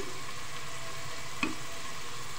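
Two star anise flowers dropped into hot oil with softened onions for masoor pulao, a steady moderate sizzle with one brief clink midway, close and without talk.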